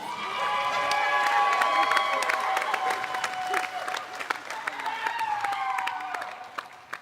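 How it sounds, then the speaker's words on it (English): Crowd at the STIHL Timbersports 2022 U.S. Women's Championship applauding and cheering the finalists, steady clapping with shouts and whoops, while an announcer's amplified voice carries over the noise. "Give them all a big round of applause."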